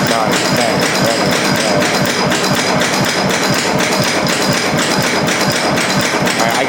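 A 130-year-old generator turns over with a steady, loud mechanical knocking, a dense run of regular hammer-like beats and sparking clicks over a continuous running drone.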